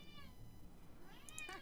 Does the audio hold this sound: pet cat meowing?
yes